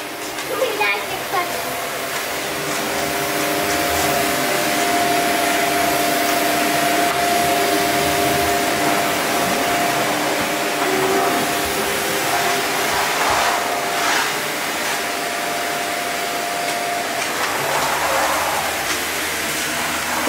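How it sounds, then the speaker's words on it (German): Vacuum cleaner running indoors, a loud steady whining drone that holds for the whole stretch with slight shifts in pitch as it moves, faint voices beneath it. "sie saugt jetzt hier mal eben komplett alles"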